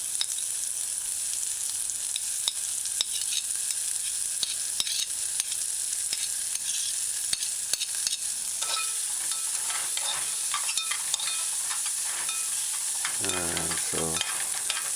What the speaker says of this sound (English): After a minute, add the diced